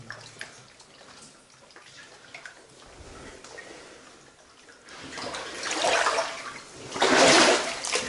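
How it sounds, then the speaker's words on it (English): Water pours into an underground cave beneath the English Channel, a quiet trickle at first that swells into a loud, rushing gush echoing close by. "Look at the water pouring in."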